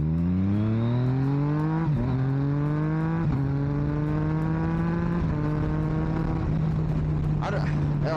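Yamaha MT-09 motorcycle accelerates hard with quick-shifter upshifts, the engine whine rising then dropping sharply at about four clutchless gear changes, loud and close with wind noise.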